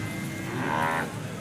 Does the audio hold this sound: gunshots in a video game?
no